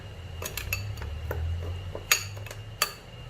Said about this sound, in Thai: แล้วก็คนเลยค่ะคนส่วนผสมทุกอย่างค่ะ